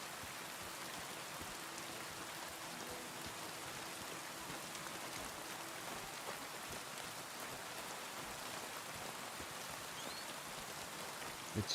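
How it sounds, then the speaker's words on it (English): Steady rain hisses over nature ambience in the video game Kingdom Come Deliverance 2, an even wash of falling drops with a faint low tone beneath, continuous and soft throughout. "listen to the nice nature sounds and the rain"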